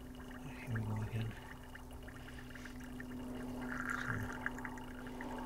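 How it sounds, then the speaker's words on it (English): A tiny homemade pulser pump model gurgles as it pumps water and sucks down air, a low continuous burbling with a couple of brief thumps, fairly faint and close, with a single spoken word. "there you see, it's sucking down air."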